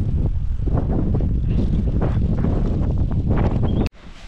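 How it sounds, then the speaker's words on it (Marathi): Strong wind gusting across an open farm field, a loud rumbling buffet hitting the microphone almost continuously before cutting off abruptly near the end. "कारण एवढ्या जोरात वारा सुटला आहे बघा"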